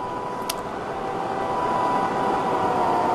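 Continuous rumble of a train in Train Simulator 2014, a steady broadband roar with a faint tonal hum, heard from above the train rather than trackside, loud and unbroken with no talk.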